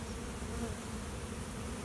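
A dense, continuous buzz of many honeybees humming close by inside a box, steady and unbroken throughout.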